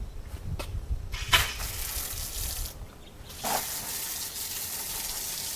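A garden hose sprays water in uneven gushes and hissing bursts, with brief pauses and sputters between stronger streams, close by and without talk.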